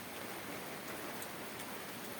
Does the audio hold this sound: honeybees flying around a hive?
no